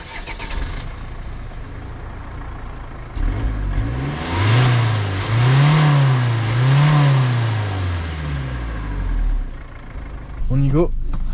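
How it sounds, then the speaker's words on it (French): A Peugeot 308 diesel car engine starts and revs in several rising and falling swells, close and loud, with a brief blip near the end. "niveau son, ça reste un diesel."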